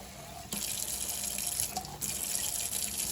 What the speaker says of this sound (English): I'm going to fill it about halfway with water.